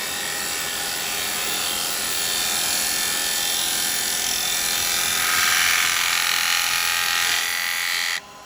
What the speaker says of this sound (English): I can get onto my bevel and I'm shear cutting going that way